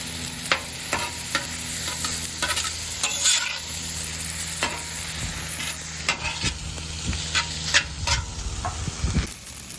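Fried rice dressed with soy hoisin sauce is stirred and tossed on a Blackstone griddle, giving a steady close sizzle broken by repeated scraping spatula strokes, with no talking.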